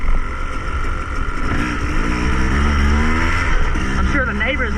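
A KTM 250 EXC dirt bike engine drones loud and steady close by, then rises in pitch as it revs, with a brief whiny flutter near the end.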